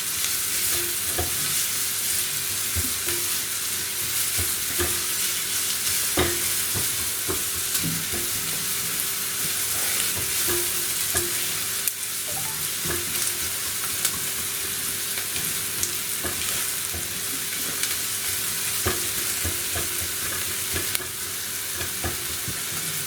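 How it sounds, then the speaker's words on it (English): Chopped onion sautéing in a hot pan with garlic gives a steady, loud sizzle throughout, broken by scattered clicks and scrapes of stirring, with no talking. "Now I'm going to put in the onion."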